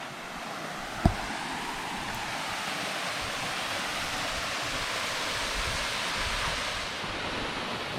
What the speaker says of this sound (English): So the sound of the water